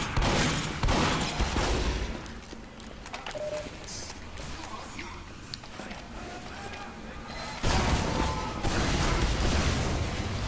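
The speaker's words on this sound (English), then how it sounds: "Let's have a shotgun fight." Shotgun blasts and gunfire fill a Team Fortress 2 match, dense and loud, with a heavier burst of shots near the end under game noise and voices.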